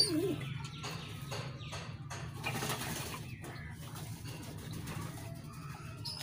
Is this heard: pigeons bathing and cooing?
yes